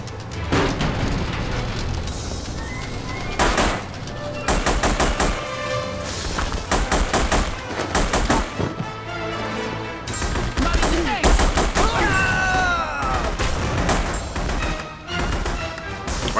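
Video game gunfire in The Punisher: repeated bursts of automatic fire and single shots crack out in irregular clusters, loud and close, mixed with booms and game noise while a voice talks at points.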